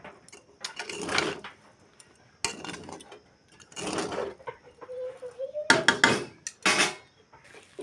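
A metal lid being put on a pan of Bengali-style poha pulao cooked with ghee: a few short, sharp metallic clanks and scrapes in separate bursts, close by, with quiet gaps between them.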